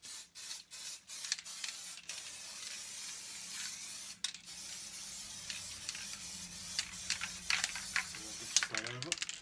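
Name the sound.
Pico basing spray being sprayed on layout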